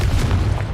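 A single deep, booming Confringo spell explosion from the game Hogwarts Legacy, loud and close, filling the whole short moment with heavy low rumble.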